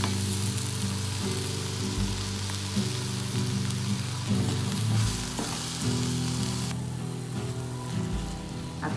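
Masala gravy seasoned with salt sautéing in a pan for rajma masala, a loud continuous sizzle with steady hiss and occasional stirring scrapes, close up and without speech.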